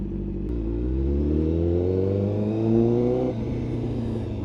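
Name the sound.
motorcycle engine starting and revving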